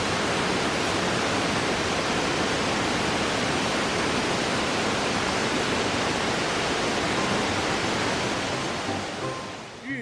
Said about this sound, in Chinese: 途中可沿路观赏龙宫瀑布